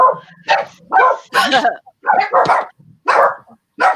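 Small dogs indoors yapping in quick, loud, close bursts, several sharp barks and yips in a row with brief gaps between them.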